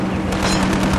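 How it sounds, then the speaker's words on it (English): Gunfire from the film Black Hawk Down, a dense, loud barrage of rapid overlapping shots with a steady rumble underneath, continuous across the short stretch. "Everybody is under such heavy fire."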